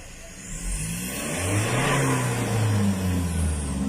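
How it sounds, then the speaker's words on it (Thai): A Mazda BT-50 Pro pickup truck engine runs steadily up close after repair of a no-start fault, its low rumble rising slightly as it revs, with outdoor background noise. "เอามาฟังเสียงเครื่องกันอีกครั้งหนึ่งครับนะครับ"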